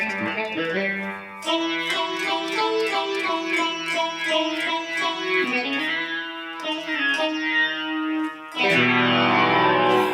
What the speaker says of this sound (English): It's hard to beat a nice sitar sample, and that's an okay one.